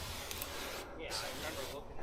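Liquid release sprayed over stamped concrete patterns, a steady broad hiss from a sprayer running continuously at close range, with brief dips in the flow.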